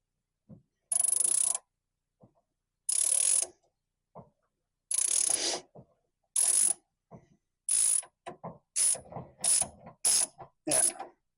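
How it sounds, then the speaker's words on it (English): A ratchet wrench works a rusty bolt on a 1967 Volkswagen Beetle, giving close bursts of clicking pawl strokes separated by pauses, which grow shorter and quicker toward the end. "You hold the ratchet. I'll hold the bolt. Now you pull it towards you to loosen it."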